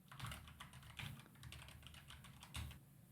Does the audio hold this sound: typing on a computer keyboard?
yes